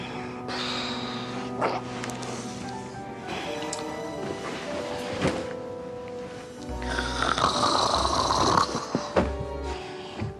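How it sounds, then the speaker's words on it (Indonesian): Snoring mixed with music and other background sound, a rough, rumbling breath that keeps returning, loudest toward the end. "tidurnya ngorok alias mendengkur"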